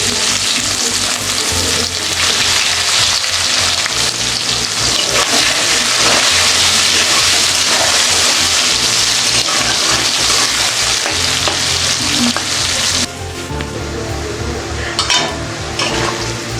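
Onions frying in hot oil to make birista for chicken biryani, a loud, dense, steady sizzle with occasional stirring scrapes, close up and continuous throughout.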